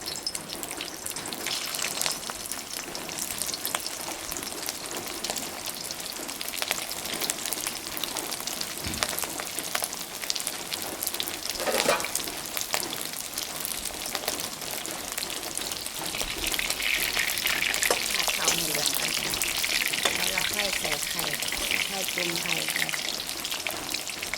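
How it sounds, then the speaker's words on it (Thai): Sticky rice stir-fried in a pan, browning before egg goes in, giving a steady sizzling hiss with scraping that grows louder and denser toward the end, with brief talk in the background. "นี่ผัดข้าวให้เหลืองก่อน"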